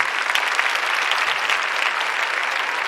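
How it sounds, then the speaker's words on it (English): Steady, dense audience applause at a synthesizer awards show, a continuous full wash of many hands clapping without a break. "Let's give him another round of applause for the best YouTube musician of the year."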